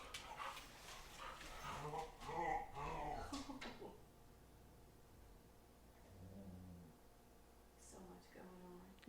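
A dog whimpers and gives short yelping barks amid excited, overlapping human voices, then a few quieter whines and harmonic yips come through near the mic after the talk dies down.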